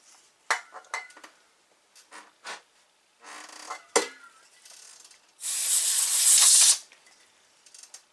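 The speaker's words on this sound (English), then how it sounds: "So now, just spray this a little bit." Lubricant is sprayed into an Atari 1050 disk drive, a sustained, loud aerosol hiss lasting about a second, preceded by scattered clicks and small mechanical clatters.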